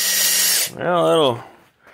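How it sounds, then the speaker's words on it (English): A loud power drill whirs for a moment, its pitch rising and falling, after a burst of harsh noise. "Let's try it out in the drill."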